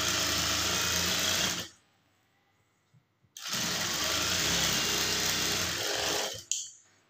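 A sewing machine runs a rough top stitch on a blouse in two loud, close bursts of rapid, steady whirring, separated by a quiet pause and ending with a small click.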